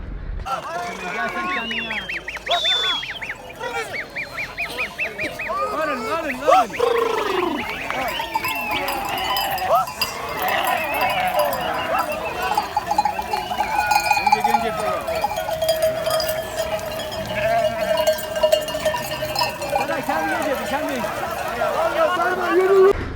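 Flocks of sheep from the surrounding villages go down into the water at dawn in a traditional sheep-washing gathering, with continuous splashing and sloshing water, clanking bells and animal bleats, all under a crowd and spoken voices.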